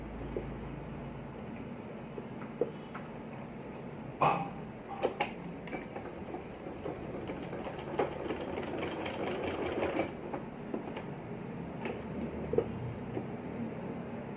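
Sewing machine stitching a placket on a boy's kurta, a steady low mechanical whir running throughout at moderate volume, with a few brief clicks and knocks along the way.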